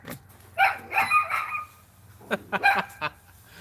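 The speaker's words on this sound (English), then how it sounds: "Now we got the dogs going" Several dogs bark in short bursts, a cluster early and another flurry later, moderately close with quiet gaps between.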